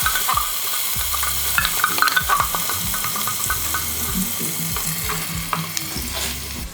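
Tomatoes hitting a hot pot for a Guyanese cook-up, a continuous frying sizzle with repeated scraping and stirring knocks from a utensil, close and steady.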